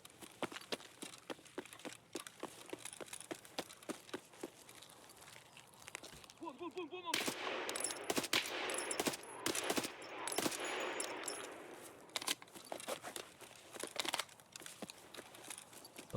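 Gunshots ring out in the video game Escape from Tarkov as sharp, scattered cracks, some fired in quick runs, mixed with loud rustling and movement noise in the middle, fairly quiet and distant overall.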